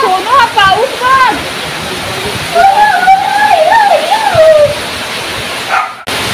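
Heavy monsoon rain pours down in a Konkan village, a loud, steady roar close by, while a frightened dog whimpers and whines in rising and falling cries over it before a sudden brief cut near the end.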